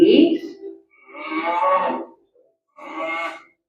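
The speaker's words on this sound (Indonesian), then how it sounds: "Suara sapi" A cow moos in three drawn-out, low lowing calls separated by short pauses, fairly close and clear.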